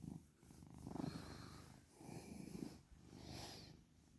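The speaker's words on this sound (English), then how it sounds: "You purr so loud." A pet cat purring loudly while having its belly and head rubbed, a steady low rumble rising and falling in slow breathing cycles, close up and continuous with no talk.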